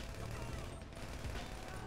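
Rapid bursts of gunfire break out in the video game GTA V during a hitman mission ambush, overlapping shots crackling densely throughout, with talk faintly underneath.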